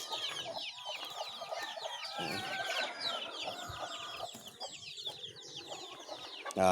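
Chickens in a small backyard coop cluck and chatter continuously, many overlapping calls close by, with a brief human voice near the end.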